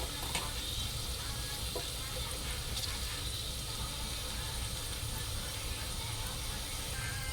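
Spices crackle and sizzle steadily in oil in a pan for tomato sambar, a soft continuous frying hiss with occasional faint pops.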